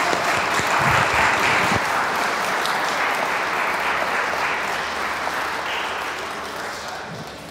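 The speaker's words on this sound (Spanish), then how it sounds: "Vamos a darle un aplauso." A congregation at a quinceañera mass in a church applauds in a dense, continuous wash of clapping that stays loud for several seconds and then slowly tapers off.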